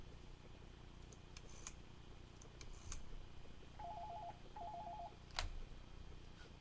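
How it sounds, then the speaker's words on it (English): A field phone switched to common battery gives faint, thin electronic tones: two short warbling bursts, each about half a second. Scattered clicks and taps from the handset come before and after, over a low steady hum. "Dial tone."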